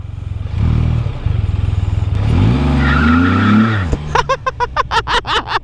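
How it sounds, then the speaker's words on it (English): A Can-Am Spyder F3 three-wheeler doing burnouts, its engine droning low and rising as the tires skid and squeal loudly up close, then breaking into a fast series of sharp revving pulses at the end. "It does mad burnouts, dude."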